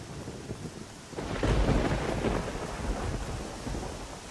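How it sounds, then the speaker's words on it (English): Rain and thunder in the video game Farwinds: a steady wash of rainfall with a deep rolling thunder rumble swelling in after the first second, then easing back, heard alone with no voices. "Maybe the rain and the thunder are good for the demise of Goldshire."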